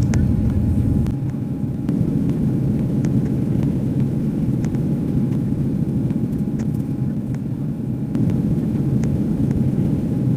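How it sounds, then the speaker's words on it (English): Airplane cabin noise during descent: a loud, steady low rumble and broadband roar of engines and airflow filling the cabin continuously, with no talk over it. "we have started our initial descent and will be landing soon"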